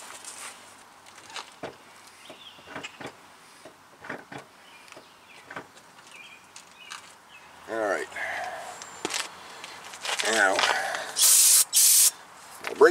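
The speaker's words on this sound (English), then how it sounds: "Brake cleaner." Brake cleaner is sprayed onto the front brake caliper of a 2000 Nissan Maxima. It comes as a couple of short, sharp, close aerosol hisses near the end, after quieter shop clatter and some faint voices.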